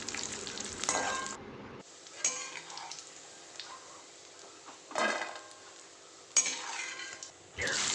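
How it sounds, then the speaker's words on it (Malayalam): Cashew nuts frying in hot oil in a pan, a steady sizzle broken by bursts of stirring and clinks of a utensil against the metal, close and fairly loud, with no talking. "ഇനി നമുക്ക് കുറച്ച് കാഷ്യൂ നട്ട്സ് ഇട്ട് കൊടുക്കാം."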